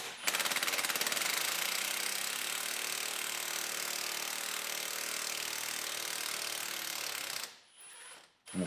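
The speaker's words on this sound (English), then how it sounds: "Unbolt those. Get a wrench on the other side." An air or power tool rattles loudly and continuously while unbolting the exhaust hangers on a 1993 Mustang GT, then stops abruptly near the end, leaving brief quieter clatter.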